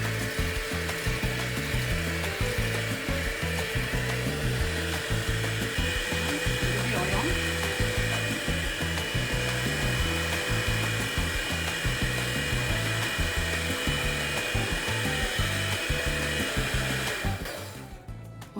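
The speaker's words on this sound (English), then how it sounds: "So I'll beat the eggs in the sugar." An electric mixer beats eggs with sugar for a cake batter, a loud, steady motor whir with rhythmic churning pulses running nearly twenty seconds before winding down at the end.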